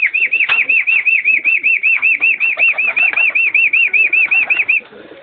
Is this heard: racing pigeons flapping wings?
yes